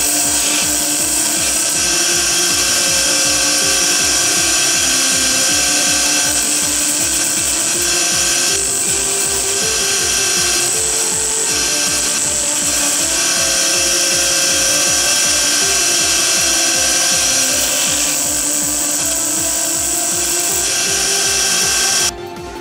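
A grinding machine cuts down a screw on a Fotopro C-4i tripod plate, producing a loud, continuous high-pitched whine with a fast underlying pulse that holds steady throughout.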